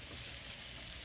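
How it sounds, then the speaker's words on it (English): Sausage sizzles softly in a cast iron pan in its own juices, a faint, even, continuous hiss with no pauses. "let's brown this sausage up"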